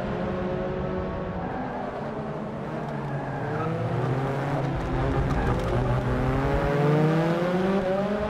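Touring race cars from a WTCC race in Forza Motorsport 6 rev hard through a corner, their engines droning with rising and falling pitch, overlapping as the pack passes, loud and steady throughout.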